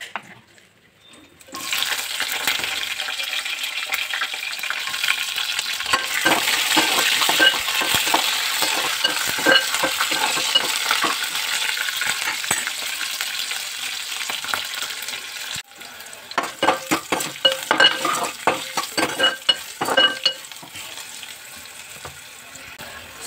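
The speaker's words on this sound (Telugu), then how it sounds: "మంచిగా వేపుకొని తర్వాత పచ్చిమిర్చి వేద్దాం." Green chillies and curry leaves fry in hot oil in a pan while poha is prepared at home. The sizzle is loud and steady, with scraping and stirring clatter that grows choppier toward the end.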